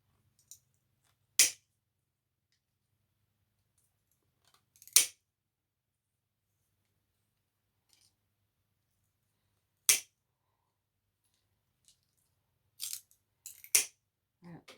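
Corners of a slate mosaic tile are cut off one by one: four sharp, crisp snaps spaced a few seconds apart, with a couple of faint clicks between them in an otherwise quiet room.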